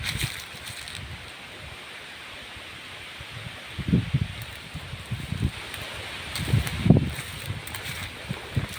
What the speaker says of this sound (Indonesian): Sangat kencang kali anginnya.